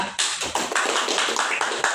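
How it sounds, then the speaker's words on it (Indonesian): A classroom group applauds after a microteaching presentation at a university, brisk hand clapping from a small group, close and continuous for about two seconds. "Baik, tepuk tangan semuanya."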